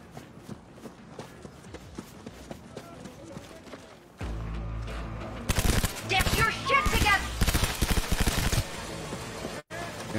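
Automatic gunfire bursts out in the video game Cyberpunk 2077, rapid loud cracking shots in clustered volleys after a stretch of quieter running and footsteps, ending with a brief drop to silence.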